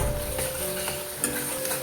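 Turmeric and chili powder sautéing in hot oil in a pan, a steady close sizzle with faint stirring scrapes and one small clink, no voices.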